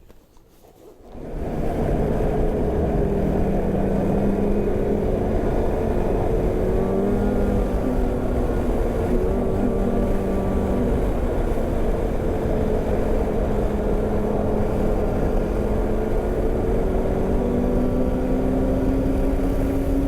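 A snowmobile engine drones steadily while riding a groomed March trail between Coe Hill and Bancroft, rising from quiet within the first seconds into a loud, constant close-up roar with no voices.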